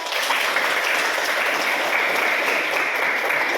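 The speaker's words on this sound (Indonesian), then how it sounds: "Oke, kasih aplaus." Students in a classroom clap together in a dense, steady burst of applause that stays loud and even from start to finish.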